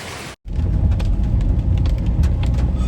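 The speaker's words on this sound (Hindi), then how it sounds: "और बारिश देखिए।" Heavy rain falls on the road near Bhimtal in the hills, a loud, steady roar with a deep low rumble that begins after a brief cut of silence.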